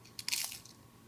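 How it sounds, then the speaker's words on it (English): A quick, crisp crunch from a single bite of a crispy kale chip, close up and brief, with no talking. "Can you hear that crunch?"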